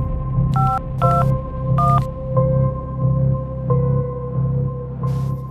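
A telephone keypad is dialed, several short touch-tone beeps in an uneven sequence over a steady low hum and a continuous background tone.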